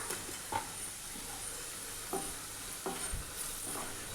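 Onion sautéing in a pan with turmeric and coriander powder, a soft continuous sizzle with occasional light stirring scrapes, fairly quiet and close.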